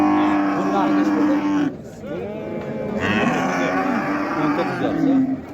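Cows moo loudly at a livestock market, with a long close low call, a short break, then another drawn-out moo, while faint voices and background bustle carry on underneath.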